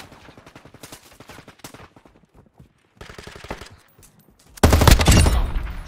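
Gunfire in the Call of Duty Modern Warfare 2 multiplayer video game on PC: rapid bursts of automatic shots with brief pauses, ending in a loud, dense close volley.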